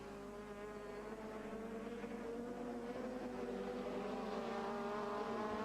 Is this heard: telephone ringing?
no